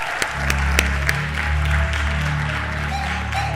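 Applause from a church audience rises over a thumping bass-heavy rap beat, with voices carrying through the clapping.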